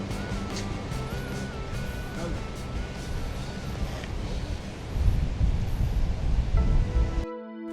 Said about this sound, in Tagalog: Sana naririnig niyo ako kasi sobrang mahangin dito.